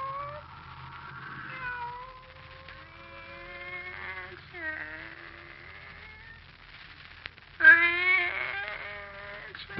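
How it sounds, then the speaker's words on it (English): A pet cat meows in long, drawn-out, wavering cries, clear and close, running one into another and rising to a louder caterwaul near the end. "Oh, it's you, Kitty. Barbara's pet."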